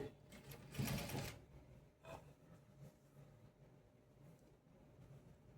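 Sewing machine back-stitching fabric, one loud close burst of rapid stitching about half a second long, then a brief second run and faint mechanical rustle, with no speech.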